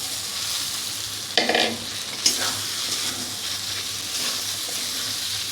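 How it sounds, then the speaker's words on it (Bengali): Fried potato and pumpkin pieces stirred into a sizzling spice mixture in a pan, a constant frying hiss with a couple of louder scraping clatters from the stirring. "আলু আর কুমড়োটা দিয়ে দেব।"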